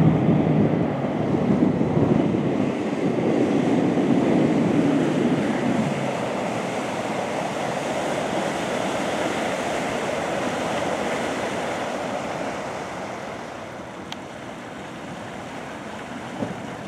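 A 1999 Trophy 2802 boat, repowered with 2013 Honda outboards, runs out on open water, a loud rushing engine and hull wash mixed with wind buffeting that slowly fades as it pulls away.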